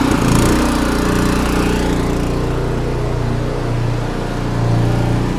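A farm machine's engine runs with its fuel tank nearly empty, a loud, rough, continuous drone with slight dips and surges in pitch, close to the microphone and with no talking.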